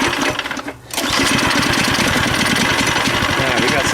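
Neighborhood go-kart engine catching and firing after a flooded start attempt, a loud rapid chugging putter that surges in after a brief dip and keeps running steadily.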